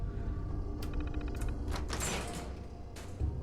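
A door opens in the video game Fallout 4 with a mechanical, sliding mechanism sound. Clicks and a whooshing slide come over a low ambient hum.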